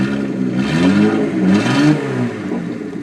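A Datsun 280Z with a straight-pipe exhaust revs up close, its deep engine note climbing and falling in two or three throttle blips with a raw, loud rasp.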